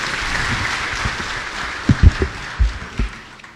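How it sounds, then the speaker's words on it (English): An audience at the Kenya Foreign Policy Review event at KICC gives a round of applause for a cabinet official, a steady crowd clapping texture with a few louder low thumps scattered near the end. "Another round of applause for the PCS,"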